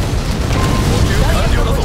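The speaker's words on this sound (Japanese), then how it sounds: "キャノン砲命中だ" A cannon shell strikes its target in the mech battle game Figure Heads, a loud, dense boom with a rumbling low end that fills the brief moment, with in-game voices around it.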